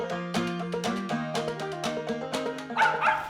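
A hunting dog barks repeatedly at a treed squirrel in the woods, with steady rhythmic bow-wow barks and a few higher yips, loud and close with no talking.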